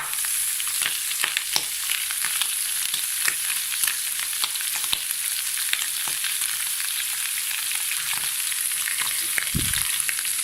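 Extra spices for beef rendang fry in a hot pan, giving a steady, close sizzle with scattered crackles and pops throughout and a low thump near the end, with no voices.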